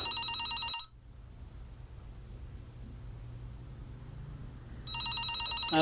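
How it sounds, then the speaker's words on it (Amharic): An office telephone rings with a bright, trilling electronic bell in a short burst, then falls silent under a low steady hiss before ringing again at the end. "እሱ ስልክ ታነሺው፣ የምጠብቀው ስልክ አለኝ።"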